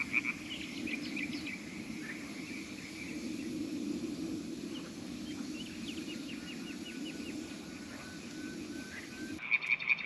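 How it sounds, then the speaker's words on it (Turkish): Frogs croak at night beside a dam lake near Bozhane village, a steady, fairly distant chorus of rhythmic croaking, with soft insect chirps and trills layered over it. "bazen kurbağalar öyle değişik sesler çıkartıyor ki arkadaşlar"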